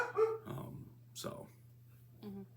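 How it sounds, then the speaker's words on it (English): A pet dog barks and growls in a few short bursts close to a microphone, mixed in with a person speaking during a recorded interview. "Excuse my dog."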